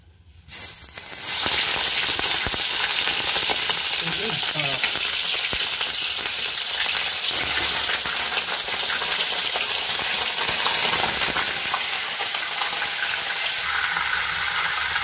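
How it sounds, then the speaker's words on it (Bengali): Chicken meat drops into hot oil left over from frying potatoes and sets off a sudden loud, dense sizzle. The hissing spatter then holds steady and close for the rest of the clip, with brief stirring noises and no voices. "এবার ওই তেলে মাংসগুলোকে ভেজে নেব।"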